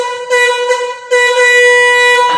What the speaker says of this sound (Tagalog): So, sunod naman is yung horn. Ito yung horn.